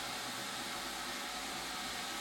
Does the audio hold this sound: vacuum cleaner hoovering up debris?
yes